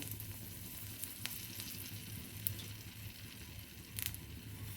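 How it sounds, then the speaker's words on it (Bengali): Dried red chilli dropped into hot oil in a wok, giving a soft, steady sizzle and crackle with a few sharper pops, fairly quiet and close, no voices. "কড়াইতে তেল দিয়েছি তেল গরম হয়ে গেছে আমি লঙ্কাটা দিয়ে দিলাম"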